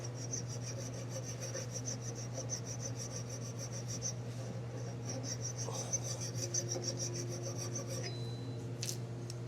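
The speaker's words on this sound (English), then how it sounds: "We're just going to take that burr down, and we're going to flat file" Flat file rasping a burr off a differential shaft near the snap ring groove, a quiet run of rapid, regular scraping strokes close by over a steady low hum, with a few clinks near the end.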